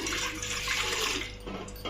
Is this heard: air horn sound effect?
no